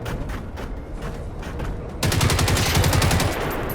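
Gunfire at a robot's armored knees in the Generation Zero video game: after a steady background rumble, a rapid burst of loud, closely spaced shots rings out continuously for nearly two seconds.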